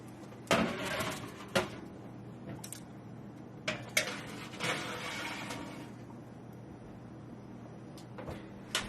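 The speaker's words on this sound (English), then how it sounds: "And now what we're going to do is put our thinly sliced bison into the oven" Metal trays of thinly sliced bison slid into a home oven: a few sharp clanks and scrapes, an oven door opening and shutting, then quiet room tone.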